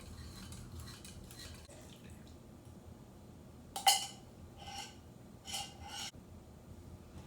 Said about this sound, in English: And then I'm just going to stir around to make sure I get out all this delicious sweetened condensed